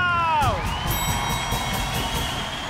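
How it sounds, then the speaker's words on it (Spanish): Studio audience on a Caracol TV talk show cheering and applauding loudly as a Colombian actor is welcomed, a steady crowd roar opening with a short descending musical sweep. "Recibamos con fuerte aplauso al gran actor Juan Pablo Urresgo."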